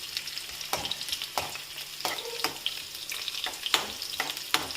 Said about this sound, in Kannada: ಕಾದ ಎಣ್ಣೆಗೆ ಫಸ್ಟ್ ಹಸಿಮೆಣಸಿನ್ಕಾಯಿ ಹಾಕಬೇಕಾಗತ್ತೆ.